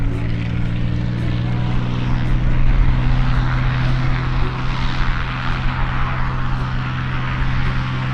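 A propeller plane flies past at an airshow in Middelburg, Mpumalanga, South Africa, its engine a loud, steady droning roar that stays close and constant throughout, with no talking.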